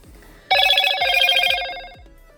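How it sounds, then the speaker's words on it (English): A smartphone rings loudly close by: a bright, sustained ringtone starts abruptly, holds for about a second and a half, then cuts off, with no talking over it. "my husband's phone's loud"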